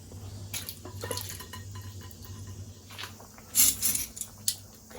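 Orange marmalade pulp is strained, and liquid drips and patters faintly in short, irregular bursts, with a few louder splashes in a quiet kitchen.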